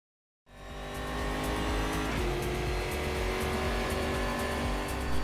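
A race car in a racing video game laps the Brasilia circuit, its engine roaring loud and continuous after a short silent start, with tire noise and a brief gear change partway through.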